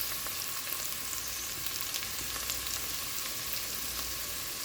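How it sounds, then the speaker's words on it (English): Chopped onion frying in hot oil in a pan for a fresh tomato sauce, a steady loud sizzle and crackle that holds evenly throughout, close by and with no voices. "Put in your chopped onion."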